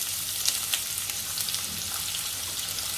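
Onion slices fry in oil with whole garam masala, bay leaf, green cardamom, cloves and cinnamon, a steady close hiss of sizzling with occasional small pops and no voices.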